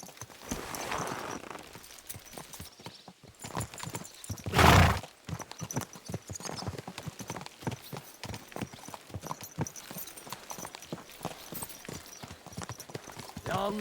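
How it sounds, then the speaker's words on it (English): Several horses trot in the medieval video game Kingdom Come: Deliverance 2, with steady, close clip-clop hoofbeats throughout and a brief loud whinny near the start. "So mount up and we'll ride out."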